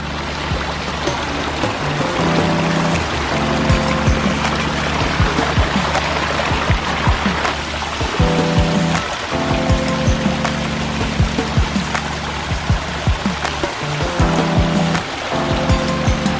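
Water splashes and pours continuously from a small garden pond waterfall tumbling into the pond, steady and close with a low rushing undertone.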